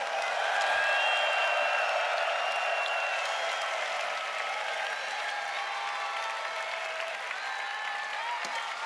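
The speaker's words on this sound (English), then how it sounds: "Give yourself a big round of applause." A large arena audience at the Eurovision Song Contest 2014 grand final claps and cheers in a dense, sustained wash of applause that carries on throughout, somewhat distant.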